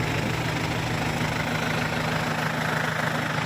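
A Kubota M7040 tractor stuck deep in mud runs its engine hard, a loud, steady low rumble that drones on without a break and with no voices.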